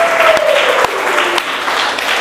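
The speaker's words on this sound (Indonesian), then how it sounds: "Tepuk tangan lagi untuk kita semua." Students applaud together in a classroom, a short burst of steady clapping with a few sharper individual claps standing out and a faint voice trailing off at the start.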